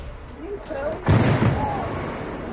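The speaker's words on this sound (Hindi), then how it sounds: "कीव समेत 10 शहरों में नॉन स्टॉप धमाके।" A single loud, deep boom from a Russian missile attack on Kyiv bursts out after a moment of quiet background voices, followed by a rumbling tail.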